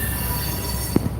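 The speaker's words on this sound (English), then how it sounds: "I'm waiting on the train to go by." A train passing at night with steel wheels squealing against the rail in a steady high-pitched screech over a constant rolling rumble, with a couple of louder low thumps near the end.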